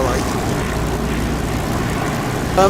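A Spitfire's engine drones steadily and loudly in the DCS flight simulator game, a dense, unbroken propeller roar for the whole moment.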